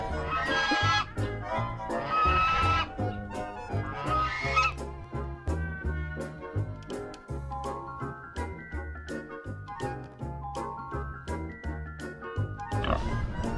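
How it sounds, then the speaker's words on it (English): An agitated guard goose in a rural village honks loudly in repeated harsh bursts, set against a steady, rhythmic backdrop of other sound throughout. "Looks like I accidentally upset the guard goose. The guard goose is going off."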